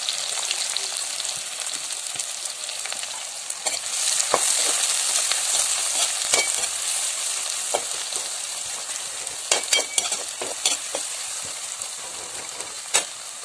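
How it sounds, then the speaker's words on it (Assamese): Onion, garlic and chili sizzle and crackle in hot oil in a pan for a chicken fry. A continuous bright hiss carries sharp pops and spatters throughout, and occasional louder snaps rise near the end. "তেল গৰম হৈ অহাত আমি ইয়াত পিঁয়াজ আৰু ৰচুন আৰু জলকীয়াকে পিচি দিম।"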